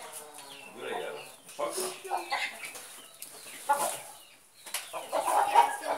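A large hen held in someone's hands during moulting clucks and squawks in short, uneven bursts close by, mixed with handling noise and people talking.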